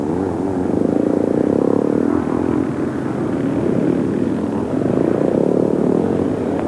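Vintage scrambles race with Dave Bickers on a 250 Greaves and Jeff Smith on a 440 BSA roaring past, two-stroke and four-stroke engines rising and fading as they sweep by, loud and close.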